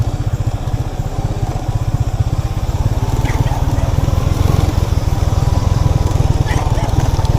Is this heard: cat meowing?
no